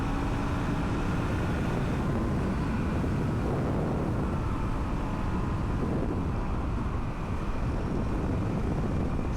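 Honda CRF450RL dual-sport motorcycle engine with a swapped ECU, pulling hard under acceleration in a high gear from around 30 mph, a steady loud drone mixed with heavy wind buffeting on the microphone.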